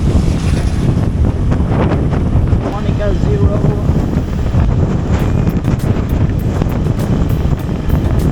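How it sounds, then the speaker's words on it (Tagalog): Loud, roaring gusts of strong wind buffet the microphone continuously on Siargao in the Philippines, with water and a boat faintly underneath and a brief voice speaking. "Ayan na naman yung malakas na hangin."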